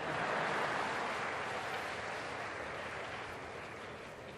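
A graduation audience applauding in a large hall, a dense wash of clapping heard from a distance that fades slightly toward the end, with no voices over it.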